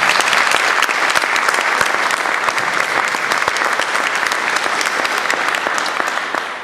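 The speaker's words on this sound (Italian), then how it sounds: "Vi prego di fare un applauso a Tommaso Marra," Concert audience in a cloister applauds, a loud, dense, sustained wash of clapping from many hands that holds steady and begins to taper at the end.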